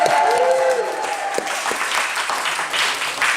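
An awards-ceremony audience at The Drum Awards for Design applauds and cheers the winners with sustained dense clapping, plus a few whoops near the start.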